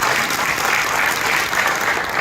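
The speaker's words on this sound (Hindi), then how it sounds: "जोरदार तालियां आज की ट्रेनिंग के लिए।" Loud, sustained applause from an audience at a two-day training session, dense even clapping throughout with no voices.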